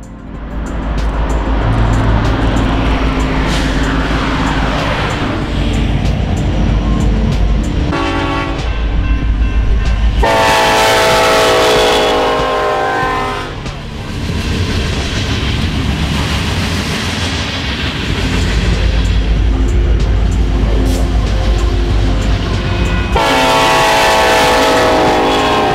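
A Union Pacific freight train hauling rocket booster parts rumbles past loud and close, with wheels clattering over the rails and the horn blowing in long blasts several times.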